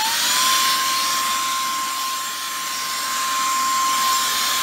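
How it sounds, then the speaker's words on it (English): A small electric blower with a vacuum attachment for cleaning keyboards runs continuously, giving a loud, steady motor whine with a rushing airflow hiss and no pauses or talk. "I'm not sure what he's vacuuming up."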